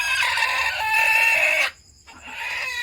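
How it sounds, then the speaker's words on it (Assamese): On a small farm, a rooster crows loudly and close, with hens clucking around it. The crow breaks off in a brief pause, then resumes more softly. "কুকুৰা, ডাঙৰ মতা কুকুৰাটো আছে এই চুকত"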